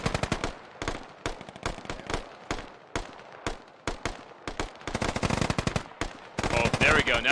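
Bursts of machine-gun fire from a military combat game on a hill skirmish map, loud and close, rapid rhythmic volleys separated by short pauses and growing denser toward the end, with faint talk underneath.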